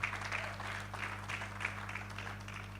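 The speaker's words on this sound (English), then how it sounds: "Ladies and gentlemen, let's give a bigger round of applause." Applause at a tenth-anniversary celebration for Chapter Four Uganda, a steady mid-level patter of many hands clapping over a low hum, continuing for a few seconds without speech.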